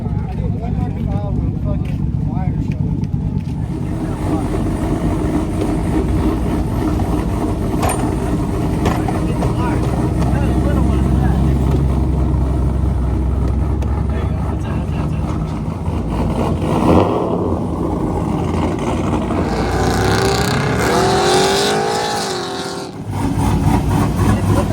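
Street trucks at Gulfport Dragway race down the drag strip, their engines roaring loudly and revving hard near the end while people talk over the noise.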